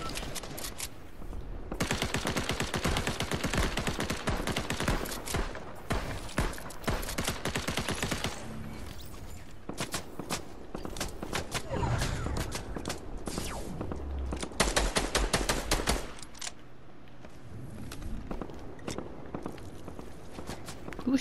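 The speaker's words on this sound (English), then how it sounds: "Who's shooting him?" Rapid bursts of gunfire ring out in Fortnite, mixed with quick footsteps and game action, loud and near with short pauses between volleys and no talking.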